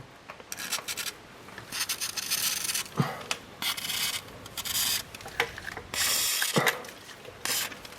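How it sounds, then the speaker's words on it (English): Close aerosol spraying of silicone lubricant comes in a series of short, sharp hissing bursts, some longer than others, with faint handling noises between them, while removing a strut on a Volvo S40/V40. "Now I'm just going to spray a little bit more silicone"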